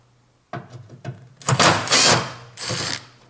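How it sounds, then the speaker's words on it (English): Small screws being backed out of a washing machine casing during a drive belt repair, a few short scraping and clicking bursts followed by louder, longer rattling tool and metal handling noises close by, with no talking. "Now I take my screws away."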